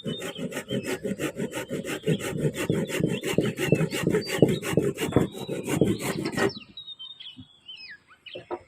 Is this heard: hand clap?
no